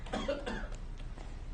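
A man coughs several times in quick succession, with a cluster of harsh coughs up front followed by a couple of fainter ones, close and fairly loud.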